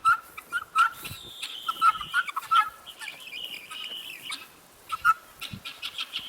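Guinea fowl, the African chicken-like birds, sound their alarm call: a loud, nearby run of harsh, repeated chattering cries, bunched in bursts with short pauses between.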